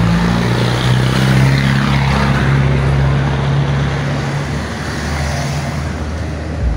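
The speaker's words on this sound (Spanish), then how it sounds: "Esperemos un momento que viene un bus." A bus passes on a street in Mérida, Venezuela, beside a restored building facade, giving a loud, steady engine rumble with low droning tones that fills the whole stretch and eases only slightly toward the end.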